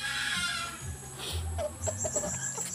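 Chickens cluck and chatter nearby in a busy, overlapping stream, with short sharp calls scattered throughout.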